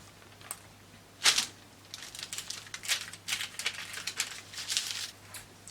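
Scissors snip through fabric up close in quick, uneven bursts of crisp cutting and rustling, with one louder snip early on.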